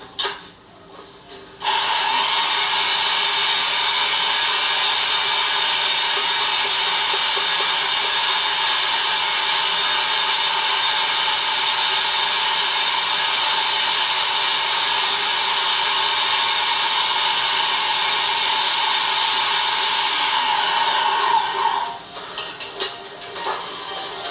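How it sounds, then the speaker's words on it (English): A food processor mills chocolate in a steady, loud whirring drone that runs unbroken for about twenty seconds, then cuts off, leaving quiet room noise. "So we do it in the food processor."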